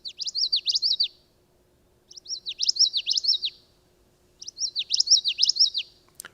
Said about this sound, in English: Another one is the common yellowthroat, another one of our warblers.